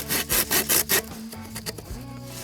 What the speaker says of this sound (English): This stuff's hard to cut with a saw.